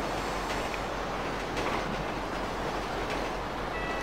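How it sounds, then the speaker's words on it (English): Riding a train in the GTA V video game: a steady, broad rumble of rolling rail travel continues without a break, fairly loud and with no voices over it. "I'm on the train still."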